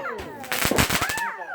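Fireworks shells bursting overhead outdoors, a rapid run of loud cracking bangs crowded into under a second, with whistling rising tones before and after and a voice faintly underneath.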